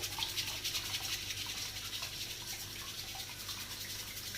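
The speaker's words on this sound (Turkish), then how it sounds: "Şimdi bunu hafif suyumuzu açıyoruz." A kitchen tap runs steadily over sea scallops being rinsed, a continuous close hiss of flowing water with no talk.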